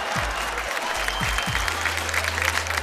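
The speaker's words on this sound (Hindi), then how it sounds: "जोरदार तालियां फिर मोदी साहब के लिए" A TV game show studio audience claps steadily and warmly, a dense wash of applause that carries on throughout without pause.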